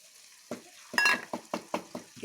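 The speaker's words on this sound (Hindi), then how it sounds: "अंडों को और फ्राई होने देंगे" Eggs frying with chopped spring onion in a pan in a Kashmiri-style dish, with soft sizzling and several rhythmic scraping stirs of a spoon against the pan, close by.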